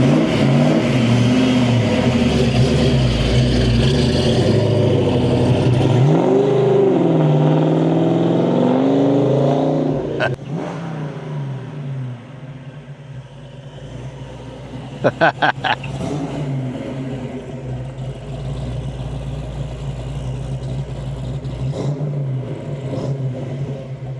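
A car engine fitted with an N41 camshaft revs loudly and nearby, a sustained roar that rises and falls, then drops to a rougher idle with a few sharp pops.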